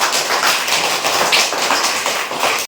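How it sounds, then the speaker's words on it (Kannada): Loud, continuous applause from an audience at a school quiz event for a 21-day reading campaign, many hands clapping densely and steadily for a few seconds with no talk over it. "ಜೋರಾಗಿ ಚಪ್ಪಾಳೆ ತಟ್ಟಿ"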